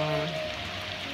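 Heavy rain pours steadily onto surfaces, a close, even hiss with faint tonal hum from nearby voices or appliances underneath.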